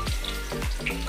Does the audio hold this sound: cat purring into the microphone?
no